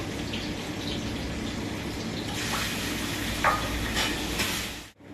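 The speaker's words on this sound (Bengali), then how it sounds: "যখন কাজু মগজ বাটাটা দেবে না তেলের মধ্যে তখন কিন্তু প্রচন্ড ছিটকবে" Cashew and melon seed paste spatters in hot oil, a steady close hiss of frying with a few sharp crackles and pops near the end before it cuts off.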